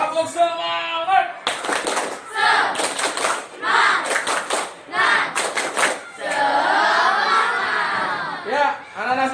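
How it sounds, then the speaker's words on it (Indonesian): A fifth-grade class performs rhythmic spirit clapping in the classroom: loud, sharp clusters of claps in a patterned beat, with children's voices chanting and calling out before and after the clapping. "Tepuk semangat."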